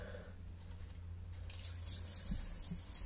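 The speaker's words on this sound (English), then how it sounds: "Now, water is draining out of there now," Water draining from the manifold plug holes of a MerCruiser boat engine during winterizing: a faint, steady trickle and light splashing under low background hum, with no talking.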